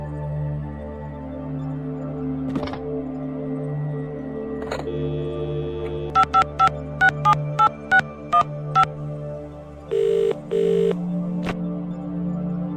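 Telephone dialing in the video game The Dream Machine: a run of about eight quick touch-tone beeps in steady rhythm, then a pair of longer ringing tones, over a low droning background.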